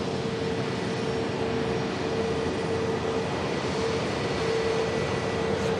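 An Airbus A321neo airliner at an airport gives off a steady, moderately distant jet rumble with a thin sustained whine riding on top, unbroken for the whole stretch.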